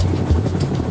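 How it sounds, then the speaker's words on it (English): A Chinook helicopter carrying wounded in an evacuation at Bagram, its heavy rotor thrum loud and steady in a brief burst. "The wounded are taken off in the first Chinook"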